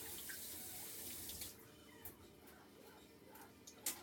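Water from a pot of boiled potatoes pours and splashes steadily into a kitchen sink, a continuous close rush with a few brief knocks.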